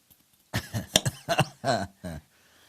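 A person coughs several times in a short, choppy burst as a balloon reaches the back of the throat during a pharyngeal sweep procedure, close and fairly soft, ending with a throat-clearing sound.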